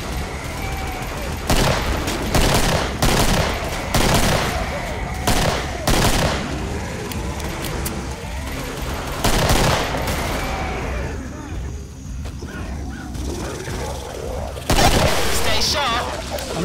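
Rapid bursts of gunfire in the shooter game Killing Floor on the Suburbia map, sharp repeated shots and volleys throughout, with a voice calling out over the shooting.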